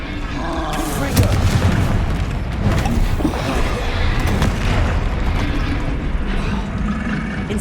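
Confringo blasting spell explosions in the Hogwarts Legacy video game, a dense, continuous barrage of booms and bursts with loud crackling impacts layered over game music and effects throughout.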